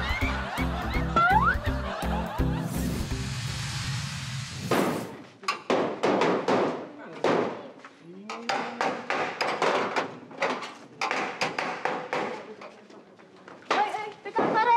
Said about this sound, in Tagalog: Ano yung pinupukpok mo dyan? Nakaka-istorbo ka na.